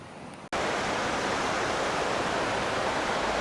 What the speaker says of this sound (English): with the water rushing behind us